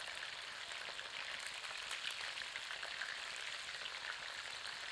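Chicken frying in hot oil for a Kashmiri yogurt chicken curry, a steady dense sizzle and crackle holding evenly for the whole stretch with no talk.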